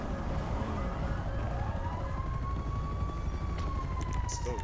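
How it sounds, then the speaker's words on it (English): A police-style emergency siren on a fire truck or ambulance wails in a long rising and falling sweep, steady and moderately loud over constant road and engine rumble. "it's fire truck ambulance"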